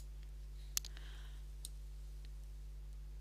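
A single sharp computer mouse click, with a fainter tick shortly after, over a steady electrical hum.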